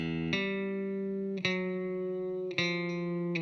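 A song's opening bass line, a slow descending figure of sustained notes plucked about every second, moderately quiet with a touch of effects and no voices.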